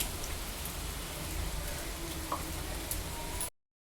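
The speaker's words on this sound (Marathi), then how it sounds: "खूप जास्त पाऊस आता झालाय सुरुवात." Heavy evening rain falls in a dense, even hiss with scattered nearer drops, fairly faint, then cuts off abruptly to silence.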